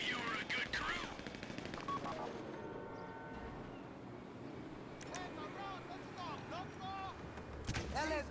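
AK rifle fire in GTA V Online crackles in rapid automatic bursts under a busy game soundscape, with distant chatter and tonal effects mixed through, moderately loud throughout.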